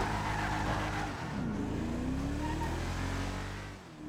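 An Enus Deity, a V12 luxury saloon in a GTA game, revs and accelerates with a rising engine note and squealing tires, loud and continuous before easing off at the end.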